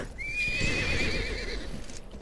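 Horse in the Western video game GUN gives a loud, close whinny lasting over a second, with clip-clopping hooves and game ambience beneath it; no one speaks.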